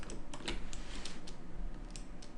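A computer keyboard in use during 3ds Max modeling, its keys pressed in a short series of faint, light clicks, close by and alone.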